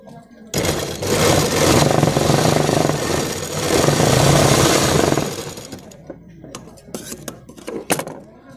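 A large industrial sewing machine runs in one continuous, loud, close burst of rapid mechanical stitching for about five seconds, then stops, leaving light clicks and handling noises.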